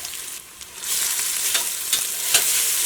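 Onion and cumin sizzle and crackle in a hot pan while being stirred for a green gram curry, a close, steady frying hiss with a few scraping stir strokes and no talk.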